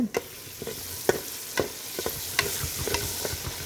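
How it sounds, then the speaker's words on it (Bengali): Onions being sautéed in a pan alongside papaya and tomato for a fish dish, a low sizzle punctuated by regular scraping strokes of a spatula, close and fairly quiet, with no voices. "এই হলো পেঁয়াজ কষানো হচ্ছে"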